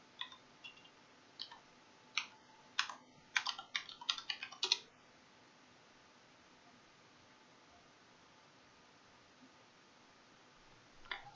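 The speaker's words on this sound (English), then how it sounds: "I keep typing exit and it keeps kicking me out of Metasploit" Typing on a computer keyboard during a Metasploit session: a sparse, faint tapping of keys, then a quick cluster of keystrokes, followed by quiet.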